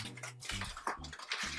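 Hot juice from baked pork spare ribs poured off a bake pan into a kitchen sink, a close, steady splashing stream of liquid with a low hum underneath and no talk.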